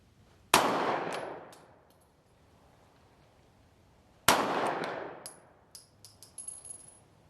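Two sharp, loud 9mm shots from a Smith & Wesson CSX micro-compact pistol, several seconds apart, each followed by a long fading echo and small metallic clinks of brass landing.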